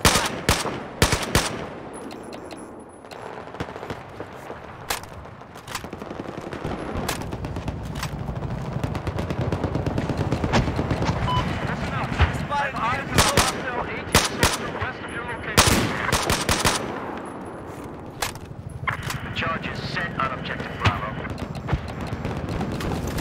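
Bursts of automatic machine gun fire mixed with other gunshots in a Battlefield 4 firefight, loud and repeated in clusters throughout, with a voice calling out in between.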